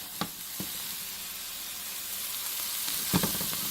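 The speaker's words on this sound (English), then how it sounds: "Just some extra virgin olive oil in the pan, salt and pepper, and saute it." Vegetables sautéing in extra virgin olive oil with salt and pepper in a pan, a steady soft sizzle throughout with a few faint utensil clicks near the start and end.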